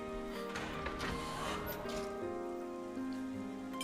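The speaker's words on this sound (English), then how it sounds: "Rain, how inconvenient." Rain falling in a Digimon video game, a steady patter of drops over sustained in-game musical tones, continuous and moderately loud with no speech.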